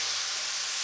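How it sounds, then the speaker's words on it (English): White wine hits a hot pan of buttery mushroom risotto and sizzles, a steady, dense hiss of boiling liquid heard close up with no voices. "and add the wine"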